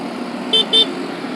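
A motorbike ridden through traffic, with a steady road and engine rumble underneath and two short car horn toots close together in the middle, each lasting a moment.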